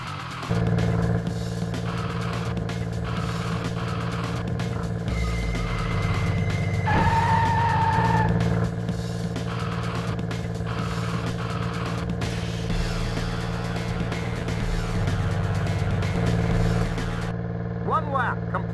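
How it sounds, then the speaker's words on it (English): A police car engine drones steadily over several seconds in the PlayStation game Urban Chaos, its pitch shifting as it accelerates around a lap course, with occasional tire squeals. "Take the squad car 3 times around the course within the time limit"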